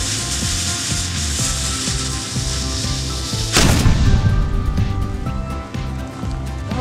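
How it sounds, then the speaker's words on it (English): A small cannon firing a Herkimer diamond gives a single sharp, loud blast partway through, cutting across a steady scraping, rubbing mechanical background. "What better way to test the hardness of a Herc than firing it out of a cannon?"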